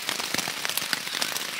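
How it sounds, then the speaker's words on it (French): Rain falls steadily at night, a dense patter of drops close by on a nearby surface, heard alone with no voices. "J'espère qu'il va arrêter de pleuvoir"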